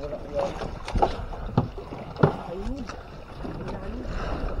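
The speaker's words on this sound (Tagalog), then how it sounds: "Ay, bangka." Small fishing boat out on the sea during a jigging trip off Iba, Zambales, with water sloshing, wind buffeting the microphone and knocks against the hull, while people talk throughout.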